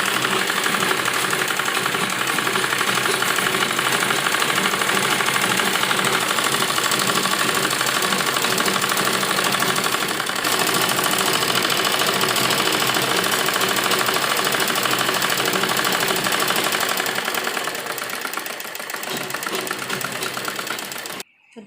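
A sewing machine runs continuously stitching the folded-in hem edge of an A-line palazzo, a steady dense whirring hum that eases slightly near the end and then stops, with no speech.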